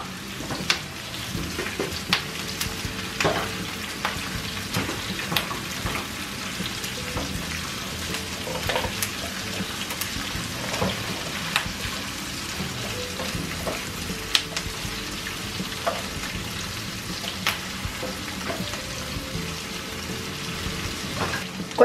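Onion, chiles, garlic and herbs frying in a pot for a seafood broth, a steady soft sizzle with scattered crackling pops, close and uninterrupted without talk.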